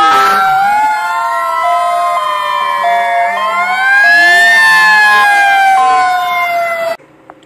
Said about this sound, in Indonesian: Ini mobil truk pemadam kebakaran.